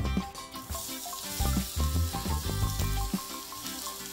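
Raw mango pieces hit hot ghee and cumin in a pan with a burst of loud sizzling and splattering, close up, spiking as the fruit lands and settling into steady frying with light clinks from a spoon.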